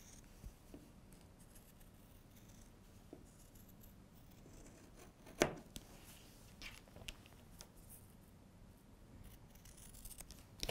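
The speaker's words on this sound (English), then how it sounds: "these Bordeaux scissors by Clover, because they're really made to just cut through anything with a lot of bulk" Quiet Clover scissors snip and crunch through thick quilted fabric in irregular cuts, with one sharper snap midway.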